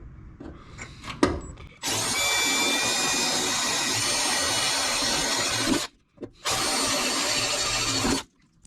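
A power drill fitted with a 3/16 bit bores holes in a 1967-69 Camaro door, starting with a few taps and clicks, then running as a loud steady whir for about four seconds, a short pause, and another burst.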